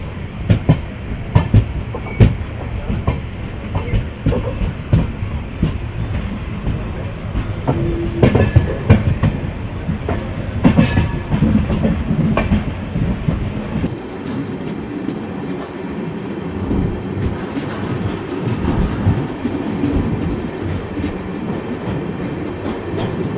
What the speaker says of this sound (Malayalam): ട്രെയിൻ ഇതാ നേത്രാവതി പാലത്തിൻ്റെ അവിടത്തേക്ക് എത്തുകയാണ്